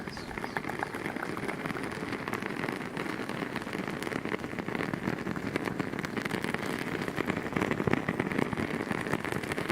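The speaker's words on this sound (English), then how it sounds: "The wick is wooden, so it crackles." Wooden-wick candles crackle steadily, a dense patter of soft pops and ticks much like rain on a tent, close and quiet with no talk over it.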